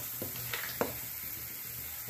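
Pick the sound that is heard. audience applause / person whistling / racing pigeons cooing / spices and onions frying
spices and onions frying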